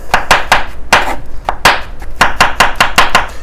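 Knife slicing through mushrooms on a cutting board, about a dozen crisp, evenly paced chops at close range, loud and unaccompanied by talk.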